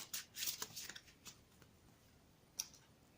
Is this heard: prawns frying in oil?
no